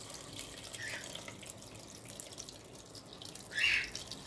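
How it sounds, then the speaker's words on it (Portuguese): Water runs from a tap into a cooking pot for chicken and dried beef soup, a steady soft stream with a louder gush near the end, fairly close and without talk. "Aí aqui eu vou colocar água."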